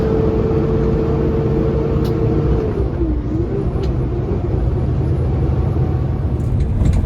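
A Kenworth T880 truck rumbles loudly and steadily over bumpy road, a deep continuous engine and chassis drone with a low tone that dips briefly partway through, no voices.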